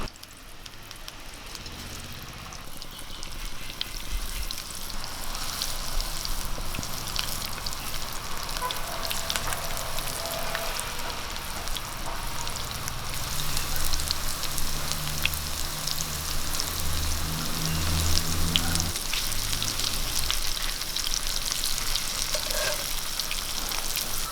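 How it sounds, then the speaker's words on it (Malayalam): Raw banana pieces fry steadily in coconut oil, a dense, continuous sizzle with crackling pops that grows a little fuller partway through, with no talking over it. "ഓരോന്നോരോന്ന് പെറുക്കിയിട്ട് ഒന്ന് ഫ്രൈ ചെയ്തെടുക്കാം"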